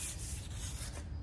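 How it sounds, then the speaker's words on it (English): Light hand sanding across the surface of a Star Wars–themed patio set, a steady close-up scratchy rubbing with gentle back-and-forth pulses and no speech over it. "so we're just going to kind of sand it down a little bit"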